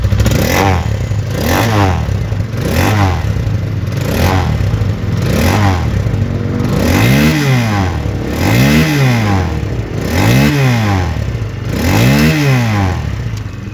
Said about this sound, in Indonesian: Ya, ini dia suara dari new KLX 150S.